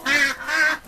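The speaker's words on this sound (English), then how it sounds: "this side we use for the ducks" Ducks quack loudly and repeatedly at close range as they hurry out of a farm barn, a dense run of harsh nasal calls with no talking.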